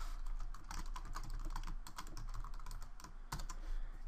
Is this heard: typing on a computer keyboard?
yes